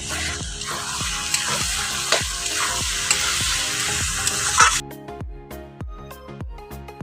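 Ginger, coriander, chili and onion-garlic pastes are stirred in a hot pan, giving a bright sizzle with spoon scrapes for several seconds before it drops away, with rhythmic background music playing throughout.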